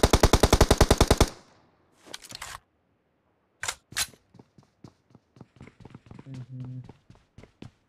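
Rapid automatic gunfire from a shooting video game opens with a loud burst, followed by a few shorter volleys and scattered single shots and impacts, with faint game sounds in between.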